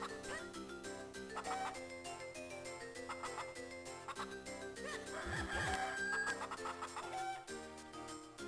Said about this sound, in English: Gotta catch all these cuckoos.